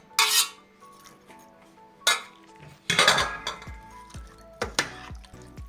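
Pickled herring and onion are mixed gently in a dish with a utensil, giving several sharp clinks and scrapes against the container, each ringing briefly, then moist shuffling, all close and moderately loud with pauses between.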